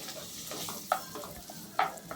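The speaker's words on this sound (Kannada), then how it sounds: "ಸೊ ಈಗ ಅದೇ ಬಾಂಡಿಗೆ ಸ್ವಲ್ಪ ಎಣ್ಣೆ ಹಾಕಿ ಒಂದು ಸ್ವಲ್ಪ ಜೀರಿಗೆನ ಹಾಕ್ಕೊಂಡು ನಾವು ಕಟ್ ಮಾಡಿ ಇಟ್ಕೊಂಡಿರೋ ಪನ್ನೀರನ್ನ ಸೇರಿಸ್ಕೊತಾ ಇದ್ದೀವಿ" Paneer cubes frying in a little oil with cumin seeds in a pan, a soft steady sizzle with a few sharp spatula scrapes and stirring clinks, close and fairly quiet.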